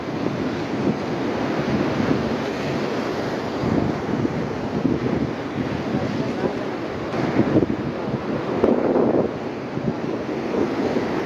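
Ocean waves breaking on a beach at Preethipura near Wattala, Colombo, Sri Lanka, as a continuous loud roar of surf mixed with heavy wind buffeting, with swells rising now and then.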